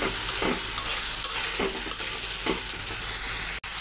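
Spice paste for a fish curry, with salt and a splash of water, sizzles steadily in a pan while a spatula scrapes and stirs it in a few regular strokes; close and fairly loud, with no talking.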